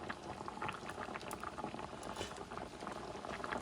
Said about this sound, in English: Couple minutes later, it started to boil a little bit.